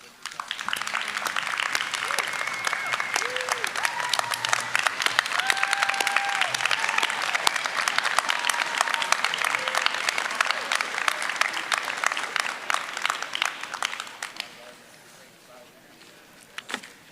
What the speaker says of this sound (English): Please join me in applauding your families and friends.